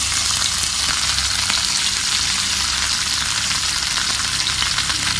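Masala-coated fish, rubbed with chilli powder, frying in hot oil on a heated pan, giving a loud, dense, continuous sizzle up close with no talking.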